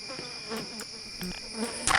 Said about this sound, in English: Pretty sure those replace the alien grunts, which are the ones in armor that shoot the bees at you.